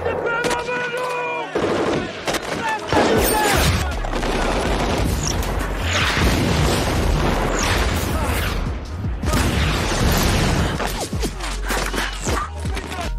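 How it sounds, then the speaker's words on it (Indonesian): Heavy gunfire from Serbian soldiers in a war film rattles almost continuously, rapid bursts and sharp cracks piling on each other, loud and close throughout. "Untungnya dia berhasil lolos dari tembakan tentara Serbia."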